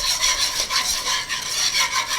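Steady whisking of soup ingredients seasoned with salt and coarse pepper for a cauliflower and sweet potato soup, a continuous close rasping, scraping rhythm with regular pulses throughout, no talking.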